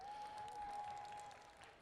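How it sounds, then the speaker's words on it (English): Crowd applause greets a middle school VEX IQ robotics team at an indoor waterpark signature event, a steady wash of clapping under a sustained tone with no talk. "A round of applause for Caution Tape Watermelon."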